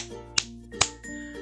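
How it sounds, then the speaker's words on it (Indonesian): Two sharp, bright claps of hands a short pause apart, close and isolated against a quiet background with a faint tonal hum. "Nah, satu itu tepuk tangan."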